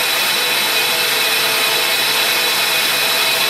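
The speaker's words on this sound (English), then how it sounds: "just starting to take the first little bit of the burrs off" A grinder takes burrs off a hard metal countersink shank, throwing short sparks; it makes a continuous, loud, even hiss-like grinding with no breaks or speech.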